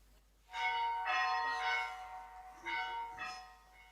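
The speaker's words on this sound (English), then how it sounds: "that's the bell" A stage bell rings in a community pantomime of Puss in Boots, several bright harmonic strikes in uneven bursts, each ringing on and decaying, fairly close and with no talk over it.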